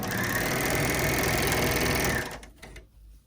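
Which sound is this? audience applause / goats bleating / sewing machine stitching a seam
sewing machine stitching a seam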